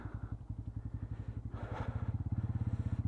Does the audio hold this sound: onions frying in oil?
no